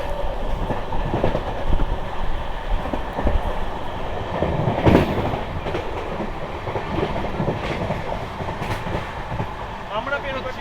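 The newly LHB-coached Sealdah Ballia Express passenger train running on the tracks in India, with a steady, loud rumble and rhythmic wheel clatter heard from inside the coach, and faint voices underneath.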